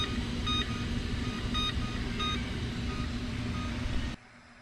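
A kitchen timer set for four minutes gives a series of short electronic beeps at a steady pace over a constant background hum, then cuts off abruptly near the end.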